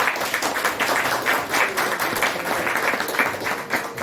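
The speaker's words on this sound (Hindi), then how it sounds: "जबरदस्त ताली होनी चाहिए।" A standing audience at a company product training session gives a loud, sustained round of clapping, dense and even from start to finish.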